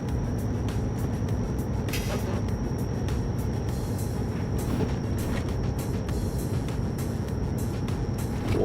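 An Iveco truck speeds along in Euro Truck Simulator with a steady, droning engine and road rumble, and faint clicks and bumps are scattered through it.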